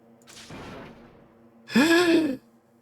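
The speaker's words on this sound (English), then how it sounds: "That's my best gasp." A person's exaggerated gasp: a soft breathy intake first, then a louder, drawn-out voiced gasp rising and falling, heard alone and close.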